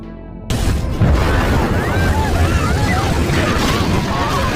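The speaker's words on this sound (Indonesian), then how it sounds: "Tak lama berselang, markas akhirnya meledak." A sudden loud blast as a base explodes, followed by a sustained roaring rumble with crackling and whistling debris sounds.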